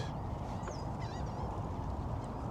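Distant geese honk faintly a few times over a loud, rumbling wind or engine noise.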